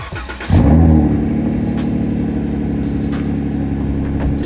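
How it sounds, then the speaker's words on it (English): A Jeep Wrangler's 3.6L engine cranks and catches after an oil change, then settles into a steady, loud, close idle with a low rumbling hum and no talking. "I'm going to turn the engine on and leave it running until it warms up"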